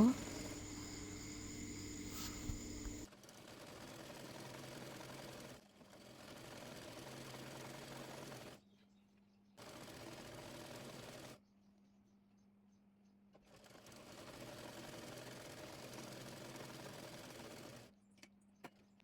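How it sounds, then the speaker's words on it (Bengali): Sewing machine stitching a folded sleeve hem on a maxi dress, steady whirring runs in several bursts separated by pauses, close and moderately quiet, with a faint hum in the gaps. "আর হাতা মুড়িয়ে সেলাই করে নেব"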